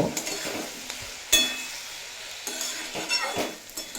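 Mixed vegetables with salt and turmeric powder fry in a pan while being stirred. A soft sizzle runs throughout, broken by close scrapes and a few metallic clinks of the spoon against the pan.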